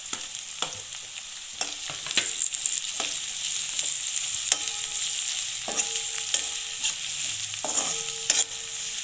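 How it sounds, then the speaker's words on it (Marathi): Sliced capsicum stir-fried in a hot pan for Chinese noodles: a steady bright sizzle with repeated scraping and clacking of the spatula against the pan, close and continuous. "तर आता आपण त्यात उभी लांबट चिरलेली ढोबळी मिरची पण घालूया।"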